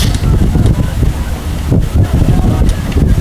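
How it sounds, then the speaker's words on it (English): A stiff, steady headwind gusts across the water during a collegiate heavyweight rowing race, buffeting the microphone with loud, uneven rumbling bursts. "A very stiff wind, a consistent headwind."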